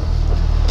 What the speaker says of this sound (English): The engine does sound sweet, doesn't it, actually?